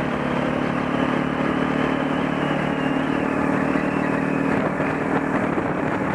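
A motorcycle engine drones loud and steady at close range, with a continuous rushing roar that suggests riding at speed.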